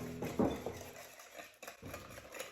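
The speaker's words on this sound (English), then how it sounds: "we're gonna just mix these two together now" Sugar and full-fat yogurt are being stirred together in a bowl: a quiet, close spoon scraping and clinking against the bowl, with a brief louder knock early on.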